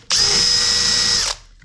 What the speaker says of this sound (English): My technique for doing this is to drill a hole